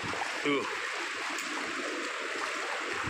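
Sea waves wash onto Oetune Beach on Timor as a steady, hissing surf with soft swells. A person speaks briefly over the water.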